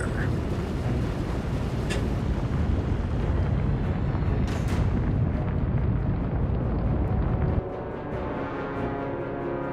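Heavy naval guns firing in the Atlantic Fleet game, a deep rumbling roar with sharp cracks at a couple of moments, the din holding loud and steady before dropping abruptly to a lower wash, with talk over it.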